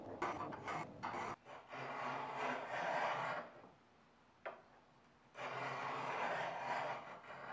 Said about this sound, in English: So I'll cut a test groove in it using a scraper